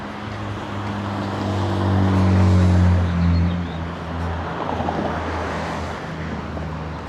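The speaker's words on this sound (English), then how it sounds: "There goes the evening traffic out here on Salisbury." Evening traffic rolls through downtown Salisbury, Maryland, with a steady low engine rumble and a vehicle passing close by mid-way, swelling and easing against continuous street noise without talk.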